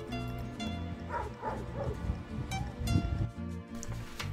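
Dogs bark and yip on a walk through the Spanish town of Lerma, the barks fairly faint and mixed with steady outdoor background noise.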